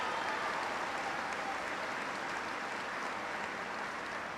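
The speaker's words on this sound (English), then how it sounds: "Give him a big round of applause." An audience at a college affordability event applauds the mayor, a dense, even wash of clapping from a large crowd, moderately distant and sustained.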